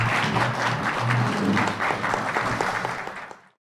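An audience applauds to close a talk in a lecture hall, dense sustained clapping from a crowd, loud and even before cutting off abruptly after about three and a half seconds.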